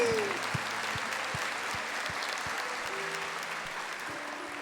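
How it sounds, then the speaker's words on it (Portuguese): Church congregation applauding during a Catholic talk, a steady, even wash of clapping that carries at moderate volume from start to finish, with a brief voice fading out at the very beginning. "Vocês querem aplaudir"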